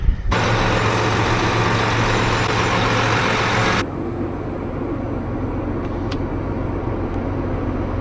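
A loud tractor engine roars steadily up close, then drops suddenly to a quieter, lower idle that keeps rumbling on.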